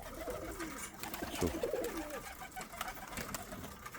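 Pigeons flying about in a loft or yard, with a brief cooing call rising near the middle and fluttering, rustling activity around it at moderate distance.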